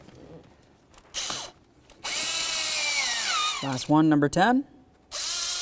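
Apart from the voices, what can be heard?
tightening intake manifold bolts on a Chevy Silverado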